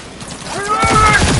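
A gun is reloaded in the video game Cyberpunk 2077, with quick mechanical clicks and a ratcheting slide. A bright metallic ring rises near the end, close and fairly loud.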